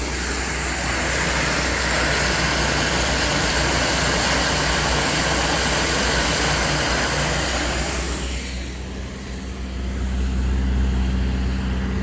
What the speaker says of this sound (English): Water jet's going crazy.